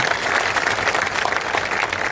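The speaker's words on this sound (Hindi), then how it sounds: "अब मेरा मन रखने के लिए एक बार तालियां" An audience at a Hindi poetry gathering bursts into applause: a dense, steady wash of clapping that holds at an even level for the whole stretch, close and full, with no voices over it.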